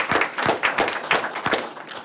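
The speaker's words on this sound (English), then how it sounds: "We'll still give a round of applause." Scattered hand claps from a small group at a Board of Education meeting, a quick uneven patter of sharp claps lasting about two seconds with no talking over it.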